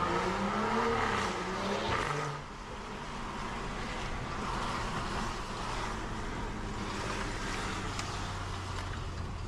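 A BMW 540i spinning out on a rain-soaked road, a loud engine rising then dropping away into a steady wash of wet tire and road noise, with no voices.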